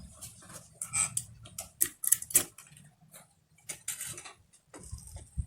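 A sewing machine stitches the seam of a fabric skirt, running in uneven mechanical bursts of whirring and ticking with short pauses between runs.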